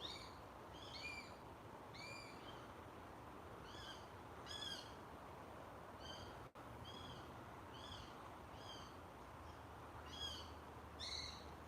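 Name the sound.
kestrel calls, mother and baby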